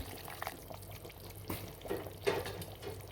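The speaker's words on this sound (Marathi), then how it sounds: "चला थोडंसं गरम पाणी घालून घेऊ आपण" Hot water poured into a pot of spicy mutton curry, a faint, close splashing pour with a few soft surges and light clatter, no voices.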